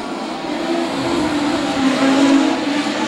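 Pack of Legend race cars pulling away at the start of a heat, a steady, dense engine roar with rising revs and a hint of tire noise, loud and continuous with no voices.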